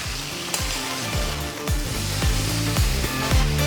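Fried rice with green onions and fresh Italian basil stir-fried in a hot wok, loud steady sizzling with repeated rhythmic scraping strokes of a utensil against the pan, close and continuous.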